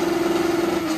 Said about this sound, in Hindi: इसके अंदर उस्ताद जी 3GR है 3000cc वाला इंजन है